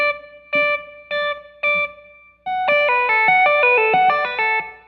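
Clean electric guitar notes ring out, first a few separate plucked tones with pauses, then a smooth connected run of sustained notes with a shimmering chorus-like sheen.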